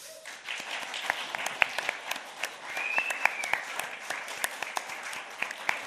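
Applause from a symposium audience inside a converted machine hall: a fairly faint, steady patter of many hands with distinct individual claps standing out, sustained for several seconds, with a few voices mixed in.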